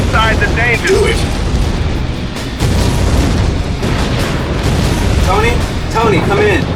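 Loud, rumbling explosions and blasts in the Iron Man 2 video game fill the scene continuously, with sharp bursts and metallic mechanical sounds over a heavy low roar.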